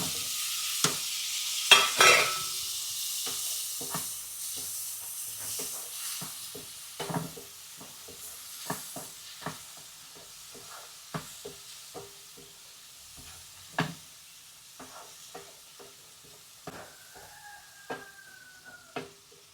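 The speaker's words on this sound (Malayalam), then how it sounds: "ഇനി നമുക്കിതിനകത്ത് തക്കാളി ചേർക്കാം." Tomatoes hit hot oil in a pan for a traditional Kerala tomato rasam, with a steady close sizzle broken by frequent sharp crackles and spatula stirring knocks, and no talking.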